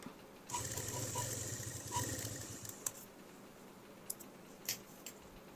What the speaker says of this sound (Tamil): அந்த இடத்துல லைட்டாக அந்த ஃபோல்டு வர இடத்த கரெக்டாக தைங்க